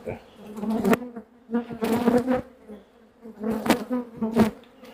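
Bees buzz close by in several rising and falling bursts, a droning hum that swells and fades repeatedly with no talking.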